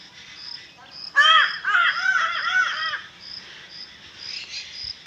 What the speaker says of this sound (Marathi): कावळे वैताग देतात त्याला बिचाऱ्याला.